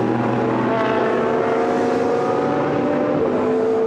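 GT race cars at the Misano circuit during a Blancpain GT Series sprint qualifying race, a loud, steady engine roar filling the whole stretch as the cars pass at speed.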